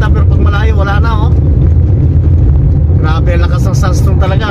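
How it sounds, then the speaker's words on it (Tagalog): A strong sandstorm wind roars over a road with traffic during a Kuwait duststorm, a loud, constant low rumble, while a person talks over it for most of the time. "Grabe ang lakas ng sandstorm talaga."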